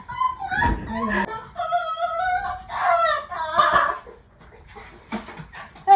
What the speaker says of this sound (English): That's a noisy doggo.